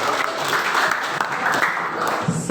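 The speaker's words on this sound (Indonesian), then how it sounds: "Berikan tepuk tangan yang meriah untuk pasangan nomor urut 1." Audience applause at a school student council (OSIS) candidate debate at SMA N 3 Amlapura, following closing statements by candidate pair number 1; steady dense clapping fills the short clip at moderate loudness.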